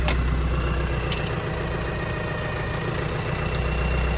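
A tractor's PTO spins up to drive a Massey tedder in a hayfield, giving a steady, close, low engine drone and mechanical rumble that holds throughout with no talk.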